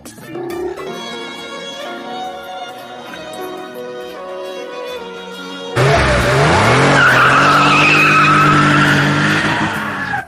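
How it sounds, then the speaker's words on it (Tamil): A car pulls away with a sudden loud screech of skidding tires, rising engine roar and squealing that follows a stretch of music, heard up close. "பிரபு வண்டி எடுப்பா"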